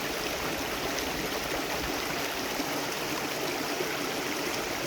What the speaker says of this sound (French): Donc ici, c'est un petit ruisseau qui se jette dans la rivière.